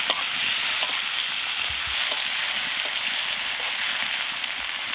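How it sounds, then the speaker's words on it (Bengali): Chopped onion, garlic and green chilli sizzle in hot white oil in a wok, a steady close crackling hiss with faint stirring, no voices. "কড়াইতে অল্প সাদা তেল দিয়ে দিচ্ছি। তেল গরম হয়ে গেছে, অল্প পেঁয়াজ কুচি দিয়ে দিচ্ছি, রসুন কুচি, 2টো কাঁচা লঙ্কা কুচি"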